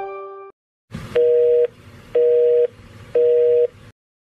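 A telephone busy tone sounds after a call hangs up: a brief tone, a click, then three evenly spaced loud beeps, each about half a second long, with quiet gaps between them.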